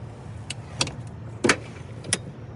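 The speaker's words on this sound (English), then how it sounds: "Just pull these handles, and then it locks into place." Rear seat of a Chevy Tahoe being folded and latched, giving a few distinct clicks and thunks over a faint background hum, with one louder latch snap in the middle.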